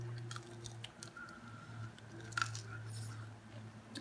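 Crunchy baked honey sriracha chicken wings are chewed close to the mic, quiet and steady, with one brief sharper crunch partway through.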